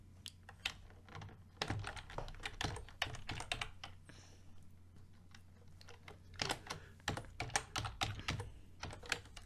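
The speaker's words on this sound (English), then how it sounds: "And now you're going to type" Rapid typing on a computer keyboard, close and fairly quiet, with irregular bursts of clicky keystrokes separated by short pauses and a low steady hum underneath.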